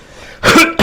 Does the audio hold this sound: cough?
yes